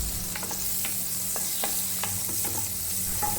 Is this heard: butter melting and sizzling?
yes